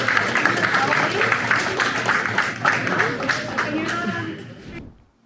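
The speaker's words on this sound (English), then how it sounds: "let's give all of our students a big round of applause" Students at a school are applauded by an audience with a steady wash of clapping and crowd noise that holds evenly and then cuts off abruptly near the end.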